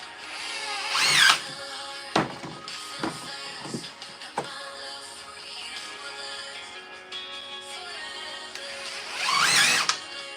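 Power drill driving screws into a gate in a shop, several short whirring bursts with longer runs near the start and end, loud and close, no talk.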